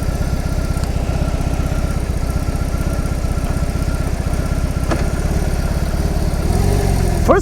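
A BMW R 18 B motorcycle engine idles with a steady, close, low rhythmic thumping, and near the end there is a brief clunk and a rising note as it is shifted into first gear.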